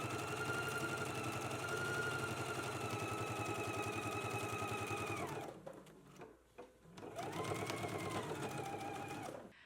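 A sewing machine stitches a 5/8 inch seam allowance, a fast steady mechanical whirr and needle clatter that runs loud and close, pauses briefly with small clicks and handling sounds, then starts up again.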